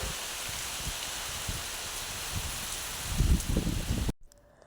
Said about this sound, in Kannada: ತುಂಬಾ ಜೋರು ಗಾಳಿ ಮಳೆ